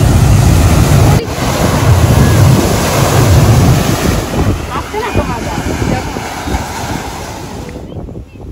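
Sea waves surge and break on Digha beach beside the Bay of Bengal, with steady wind buffeting the microphone in a loud, continuous wash of surf.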